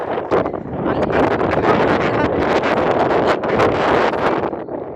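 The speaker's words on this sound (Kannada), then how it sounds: "ಫುಲ್ ಗಾಳಿ ಐತಿ ಕೈಯಾಗ ಮೊಬೈಲ್ ಸದ್ಯಕ್ಕೆ ನಿಲ್ತಾ ಇಲ್ಲ" Strong wind gusts steadily across the microphone on the hike to Delicate Arch in Arches National Park, a loud, rough, continuous roar of buffeting with no pauses.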